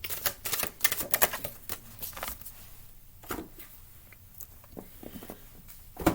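A deck of oracle cards being shuffled and split by hand, giving bursts of quick crisp riffling clicks and flutters, busiest at the start, then sparser taps and a final snap, fairly close and with no talking.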